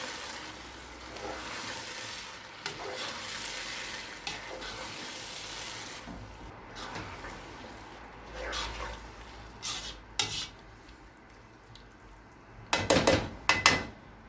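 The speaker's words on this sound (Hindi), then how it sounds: "अब इसमें भरता डाल देंगे। ये अच्छे से मिक्स कर लेंगे।" Mashed brinjal bharta stirred into softened tomatoes in a pan, a low steady sizzle with scraping and clicking spoon strokes that grow sharper and more frequent near the end.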